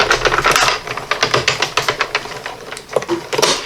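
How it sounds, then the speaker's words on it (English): A die cut machine pushing a plate sandwich through its rollers gives a close, loud run of rapid mechanical clicks and clacks at a steady rhythm for a few seconds, with no voices. "I'm going to push this through my die cut machine."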